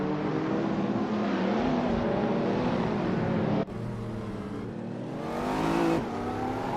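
A 1994 Volkswagen Golf VR6 in a racing video game holds a loud, steady engine drone, shifting pitch as it revs and changes gear partway through, with no voices.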